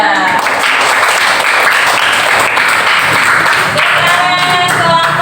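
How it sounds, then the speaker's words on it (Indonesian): Students in a classroom during a supervised lesson observation applaud a student group after its presentation, loud, steady, close clapping filling the whole stretch, with a voice faintly heard near the end. "Jadi tepuk tangan untuk kelompok 2."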